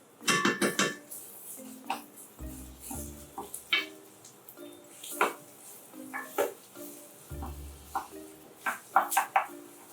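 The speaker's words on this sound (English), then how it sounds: "When the vegetables become golden brown and fragrant, you can start to add in a spoonful of tomato puree." Vegetables cooking in a pot for a French mother sauce, with a spoonful of tomato puree going in: repeated near clinks and scrapes of a spoon against the pot, low thuds and a faint sizzle running underneath, with no voices.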